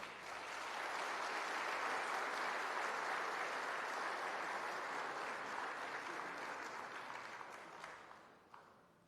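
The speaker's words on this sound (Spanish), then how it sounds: "recibimos con un fuerte aplauso de bienvenida" Strong welcoming applause from an audience for a speaker at a pastoral lecture on an apostolic exhortation, a dense steady wash of clapping that holds for most of the time, then tapers off near the end.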